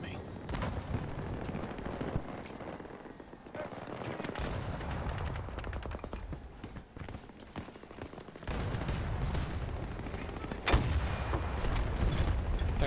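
Gunfire in the video game Battlefield 2042 crackles in dense, rapid bursts with heavy booms and explosions, loud and near, running almost continuously with a voice talking over it.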